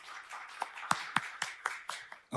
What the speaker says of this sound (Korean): 여러분 큰 박수로 맞이해 주시기 바랍니다